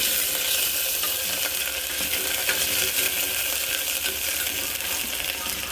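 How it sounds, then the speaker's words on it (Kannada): Chopped onion frying in hot oil in a pan crackles with a loud, dense, unbroken sizzle that holds steady from start to finish. "ಸ್ವಲ್ಪ ಈರುಳ್ಳಿ ಅರ್ಧ ಎತ್ತಿಟ್ಕೊಂಡಿದ್ವಲ್ಲ ಅದು ಹಾಕಿ ಫ್ರೈ ಮಾಡ್ಕೊಳ್ಳೋಣ"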